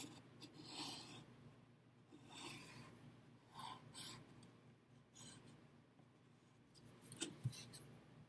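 A crayon rubbing across paper in a tracing exercise, giving soft repeated scratchy strokes, close and quiet, with a short busier burst near the end.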